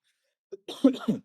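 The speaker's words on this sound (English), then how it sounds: "So I have to cough now and again." A single short cough, close and dry, from someone recovering from laryngitis, following a brief throat sound after near silence.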